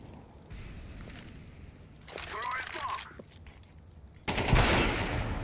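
Gunfire in the video game Counter-Strike 2 comes as a rattling burst midway and a louder sustained volley near the end, heard under players talking.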